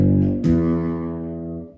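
Six-string bass sounding a sixth interval: a low sustained note joined by a second note at about 0.45 s, both ringing together and slowly fading, with no talk.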